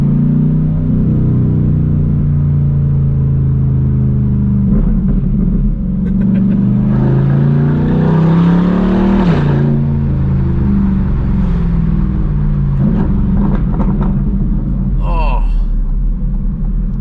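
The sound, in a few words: sports car loud exhaust revving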